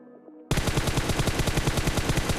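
Rapid automatic gunfire from PUBG, a loud sustained burst of evenly spaced shots starting abruptly after a brief quiet moment, with no voices.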